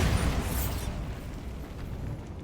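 In Hogwarts Legacy, a Bombarda spell goes off as a deep, booming blast that rumbles heavily at first and then slowly dies away over a couple of seconds.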